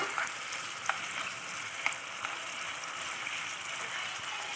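A mixture sizzles softly in a pan while being stirred, with a steady low frying hiss and a couple of faint scraping taps from the spoon.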